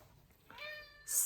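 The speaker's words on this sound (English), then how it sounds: "So, sorry for my cat." A house cat gives a single short meow, faint and close, rising briefly over quiet room background, followed by a louder burst of noise.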